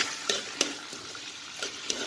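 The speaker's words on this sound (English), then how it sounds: "I'll let it fry." Small potatoes fry in a pan over medium heat for a sardine and potato dish: a soft, even sizzle punctuated by a few distinct stirring clacks, close and unaccompanied by speech.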